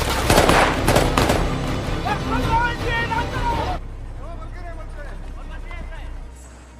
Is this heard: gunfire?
yes